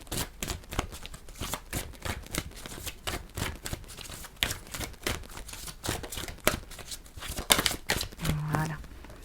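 Cards being drawn and shuffled at a tarot-style reading table, giving a steady run of quick papery flicks and riffles, close and moderately loud, with brief soft speech-like sounds mixed in.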